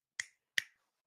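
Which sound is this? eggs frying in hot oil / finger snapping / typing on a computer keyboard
finger snapping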